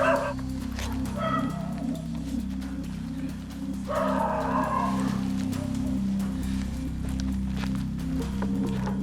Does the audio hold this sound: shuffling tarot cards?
no